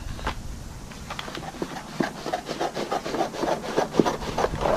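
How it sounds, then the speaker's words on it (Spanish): Cardboard for a 1984 El Camino sun visor is cut with rhythmic, close rasping strokes that quicken and grow louder toward the end. "Y ahora lo que hacemos es le cortamos un poquito extra."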